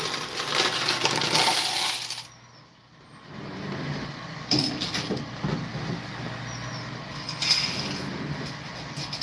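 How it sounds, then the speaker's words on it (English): A heap of quarters spills onto a floor in a loud, dense jingling clatter lasting about two seconds, followed by quieter background noise with scattered smaller clinks. "I dropped so many quarters on the floor."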